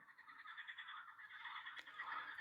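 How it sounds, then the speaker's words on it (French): A frog croaks alone in a quick, steady pulsing series of rasping calls, faint and close, repeating without pause. "La grenouille saute sur un nénuphar."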